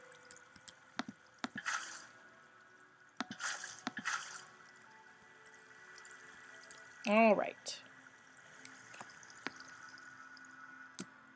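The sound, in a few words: water flowing into a hole in Minecraft-style video game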